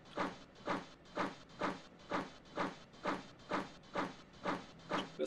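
A train rolling behind a pilot locomotive passes with steady rhythmic clatter, evenly spaced hissing thumps repeating about twice a second as the cars go by, fairly close with no talk.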